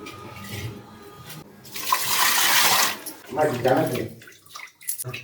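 Kotti kilangu tubers are rubbed and washed clean in water, with splashing and running water in bursts close by. Someone talks over parts of it.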